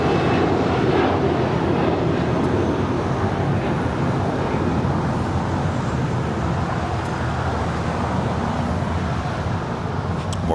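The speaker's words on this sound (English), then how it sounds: "Second in line for a departure here is United Airlines Flight 330 heading to Chicago O'Hare. It's a 757-300" United Airlines Boeing 757-300 jet, flight 330 to Chicago O'Hare, departing LAX: a loud, unbroken engine rumble and roar that stays even across the whole stretch, with no voices.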